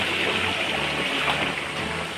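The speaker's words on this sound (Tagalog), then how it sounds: "And maganda pa rin naman siya kahit hindi masyadong malakas yung tubig." Water flows at Daliay-ay Falls, a waterfall running at modest strength, producing a steady, unbroken rushing wash heard alone at moderate loudness.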